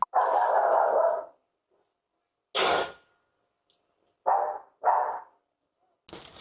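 Several dogs barking outside a house in Seattle, heard as a few sharp separate barks with long silent gaps between them, fairly close and loud.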